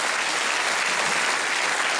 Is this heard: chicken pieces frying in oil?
no